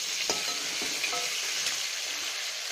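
Crab gravy is mixed gently in a pan over a constant, even bubbling sizzle, with a few light clinks and scrapes of a spoon near the start.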